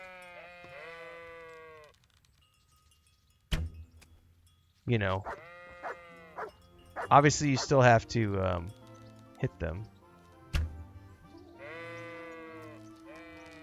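Sheep bleating in the medieval game Kingdom Come: Deliverance, several wavering bleats from nearby animals with a few sharp knocks between them, while someone talks over part of it.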